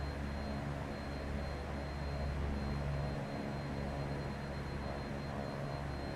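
Steady drone of an Embraer EMB-110 Bandeirante twin turboprop in flight within a simulator, a constant engine hum with a thin high whine, holding level and unbroken with no speech.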